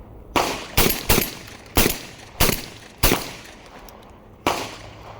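A Mac 1014 semi-automatic shotgun, a Benelli M4 clone, fires seven sharp, loud blasts. The shots come in uneven rapid pairs and singles, each with a short echoing tail outdoors.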